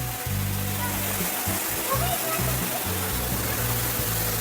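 A waterfall near Gangtok roars as a dense, steady rush of falling water filling the whole span, loud and close, with people talking over it.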